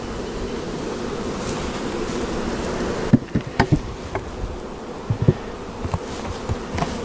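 Honey bees buzz steadily at an open hive during a summer hive check, a dense droning hum at close range, interrupted later by a few sharp knocks and clicks as the hive lid is handled.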